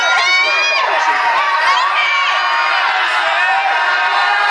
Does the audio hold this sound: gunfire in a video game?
no